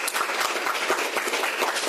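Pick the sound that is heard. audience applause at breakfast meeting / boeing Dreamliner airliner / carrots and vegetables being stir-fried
audience applause at breakfast meeting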